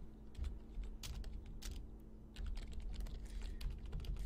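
Computer keyboard typing while writing C# code in Unity, a near, steady stream of rapid key clicks over a low electrical hum, with no voice.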